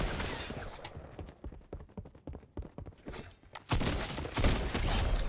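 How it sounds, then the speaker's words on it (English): Gunfire in the video game Fortnite: rapid bursts of sharp shots in an uneven volley, followed by a louder, denser stretch of blasts and game noise near the end, with no talking. "Now I can shoot people."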